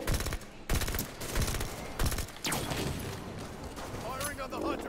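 Rapid bursts of gunfire from the video game Halo 5, repeated volleys and an automatic stream of shots set against battle noise, with a voice talking over the action.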